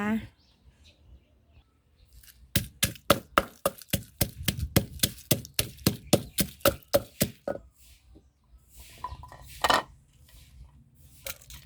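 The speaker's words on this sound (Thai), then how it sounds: "เดี๋ยวเรามาโขลกพริกกันก่อนนะคะ" Chilies being pounded in a mortar, a close run of about twenty steady thuds in a quick even rhythm, with quieter knocks before and after.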